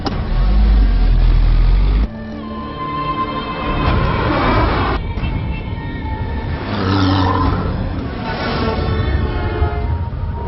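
A car engine revs hard and pulls away from a standstill in a dramatic street scene, loud and close at first, then dropping to a steady rumbling drive with gear changes and a sharp knock partway through.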